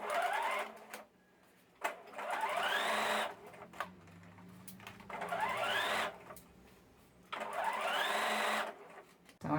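Domestic sewing machine stitching bias binding onto a fabric baby bib, running in four bursts of steady whirring with short pauses between, close and fairly loud with no voices.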